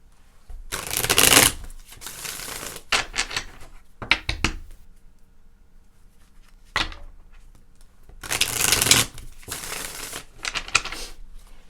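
Tarot cards shuffled by hand in several loud bursts of riffling and flicking, separated by quieter gaps, close up and alone without talk.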